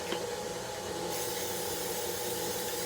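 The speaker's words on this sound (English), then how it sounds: "you're going to want to spray it so that when we put the dough in there" Cooking spray hisses from a can into a big mixing bowl for pizza dough, one continuous close spray lasting a few seconds with no pause.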